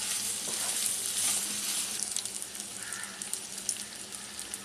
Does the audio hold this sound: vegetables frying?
yes